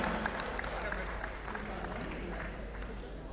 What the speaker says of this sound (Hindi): बहुत अच्छी विचार कविताओं के लिए जोरदार तालियों से स्वागत कीजिएगा